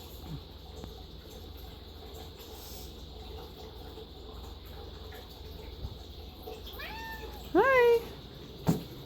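A cat near catnip gives two or three short rising-falling meows near the end, clear and close, after a stretch of low background hum and faint rustling.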